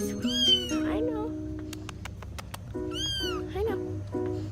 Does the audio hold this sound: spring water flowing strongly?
no